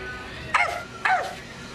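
A person imitates a Chihuahua barking with two short, sharp yapping barks, each with a quick falling pitch, separated by a brief pause and close to the microphone.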